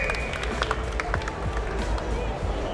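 A crowd at a hookah battle competition at ShishaMesse Frankfurt claps and cheers steadily for team Germany, a dense close wash of applause with scattered shouts.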